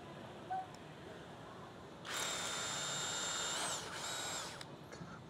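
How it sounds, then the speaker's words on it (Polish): A power drill whines for about two seconds, boring into a hard coconut shell, with faint handling noises before and after in a quiet room. "możecie zawsze skorzystać ze wkrętarki albo wiertarki"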